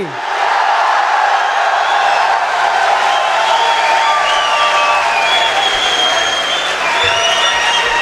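Audience applause at a mushaira poetry event, loud, dense clapping from a large crowd that continues steadily for about eight seconds, with occasional cheers mixed in.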